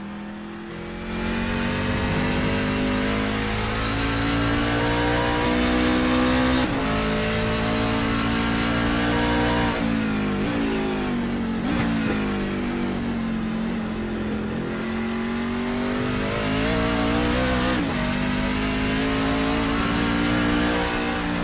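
A race truck screams around Watkins Glen International in a Truck Series hot lap, its engine revving hard and steadily for about twenty seconds, pitch rising and dropping through gear changes and corners, loud and close with no talk.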